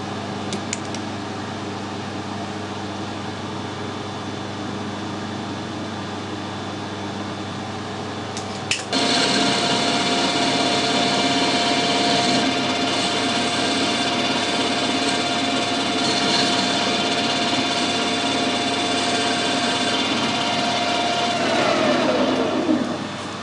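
A lathe turns metal down to a quarter inch ahead of cutting a 1/4-28 screw thread, a steady whirring machine hum that grows louder and brighter about a third of the way in and then runs on evenly.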